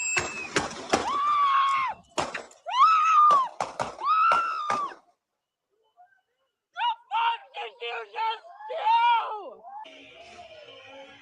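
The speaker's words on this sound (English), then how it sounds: "you hear somebody screaming," Played footage of a scuffle with federal officers: a person screams and yells in loud, frantic bursts, then a short silence, then more shouting voices mixed with the struggle.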